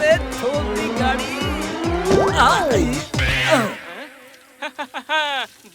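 A car skids hard with loud squealing tires and rising engine noise before an impact, followed by a few short honks, with voices talking over the commotion.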